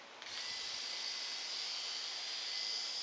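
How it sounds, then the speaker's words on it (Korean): A small rechargeable Xiaomi ZHIBAI mini electric shaver switches on with a click and its motor whirs in a steady, high, buzzing drone, close and alone. "그냥 모터 돌아가는 소리가 조금 나고"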